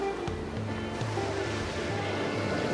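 Ocean surf on Rockaway Beach as the tide goes out, a steady broad wash of breaking waves that fills the whole stretch, with a faint low hum and some tonal bits mixed in.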